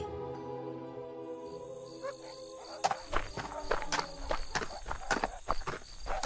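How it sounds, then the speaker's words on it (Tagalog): Crickets chirp steadily in high, buzzing trills while irregular footsteps crunch nearby, growing busier after the first few seconds. "tanging tunog lamang ng kanilang mga yapak, kuliglig at paunti-unting pagtahol ng mga aso"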